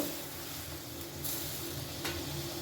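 Ridge gourd and moong dal simmering in a pan, a steady soft bubbling sizzle with a faint hiss, close and continuous with no talking.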